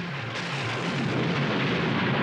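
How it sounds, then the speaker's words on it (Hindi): A storm sound effect in a Ramanand Sagar Shri Krishna TV episode, a loud, continuous roaring rumble like wind and thunder that holds steady throughout, with no talking. "अचानक ये तूफान कहां से आ गया?"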